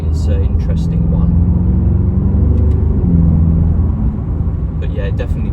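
A 2017 BMW M6 Competition Gran Coupe with its 4.4 V8 gives a steady, loud exhaust rumble throughout, with a deep low drone and a few sharper bursts near the end.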